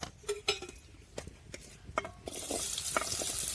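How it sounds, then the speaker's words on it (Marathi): Onion, tomato, garlic and green chillies stir-fried in a wok, with scattered scrapes and knocks of a utensil, then a steady louder sizzle building in the last second or so, close by and without talk. "आपल्याला ते आता कढईमध्ये चांगलं परतून घ्यायचं"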